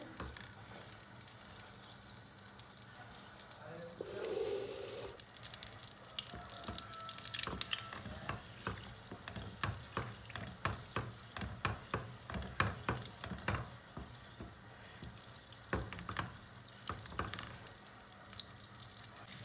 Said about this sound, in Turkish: Şöyle margarini güzelce eritelim.